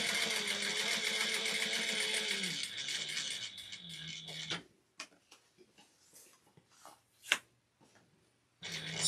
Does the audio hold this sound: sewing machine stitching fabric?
yes